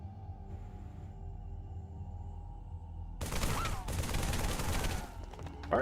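A weapon fires in a modded Halo 3 game, a sudden dense volley of loud shots that breaks in after a low humming stretch and runs for a couple of seconds.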